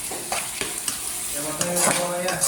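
Whole spices—cloves, cardamom and cinnamon—frying in oil in a pot for a chicken and potato curry, a steady close sizzle with several scraping stirs and light utensil clinks throughout.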